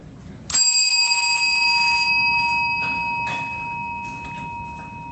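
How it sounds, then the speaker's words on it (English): A single bell strike used to time speakers in a video conference rings out loud and clear, its bright tones sustaining and slowly fading over several seconds. "For the speaker, we will ring the bell once."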